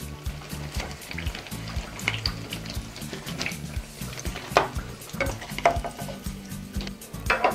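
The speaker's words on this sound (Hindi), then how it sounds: "अब हम इसी तरह से सारे पकौड़े को तल के तैयार करेंगे" Lauki (bottle gourd) pakoras frying in hot oil, a soft continuous sizzle with scattered stirring clinks and light scraping throughout, fairly quiet and without talk.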